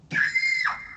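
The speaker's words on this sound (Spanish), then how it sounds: "Un grito, sí, un grito." A single short synthetic scream for a sound design track, a sustained shrill cry that holds steady and then bends downward before fading, lasting under a second and heard alone.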